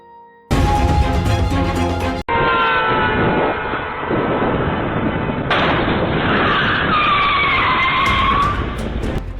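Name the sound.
car skidding and crashing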